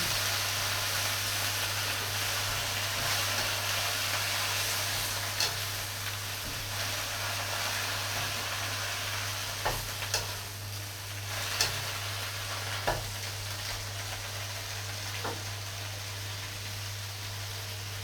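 Small cabbage florets stir-fry with dried shrimp in a hot wok, giving a steady, loud hissing sizzle over a low hum, with a few faint clicks of a utensil against the metal.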